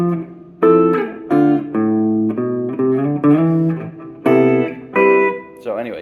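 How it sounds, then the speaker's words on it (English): Squier Classic Vibe '60s Jazzmaster electric guitar with its tone knob at 5, playing a clean, mellowed melody of sustained single notes and short phrases in a steady rhythm, loud and close, with no talking. "Now let's turn the tone down to 5 and see what that sounds like."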